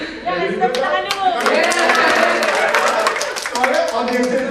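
Audience applause and clapping at a public speaking training session in a church hall, a steady dense patter of many hands lasting several seconds, close and fairly loud.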